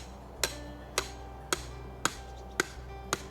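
Six evenly spaced metallic strikes of a hammer pounding rebar into the ground while installing landscape timbers, each blow a sharp ringing clank about half a second apart, close and clear over quiet background.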